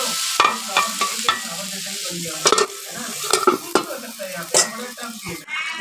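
Prawn curry gravy, a yogurt-prawn base, is sautéed in a pan, a busy sizzle broken by repeated scraping and metallic clanks of a spoon against the pan, close and fairly loud.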